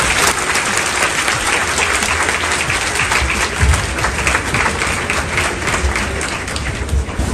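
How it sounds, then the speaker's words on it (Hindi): Loud, sustained applause from a large crowd at a coaching batch launch event in Patna, India, dense clapping continuing without a break. "जोरदार तालियों के साथ"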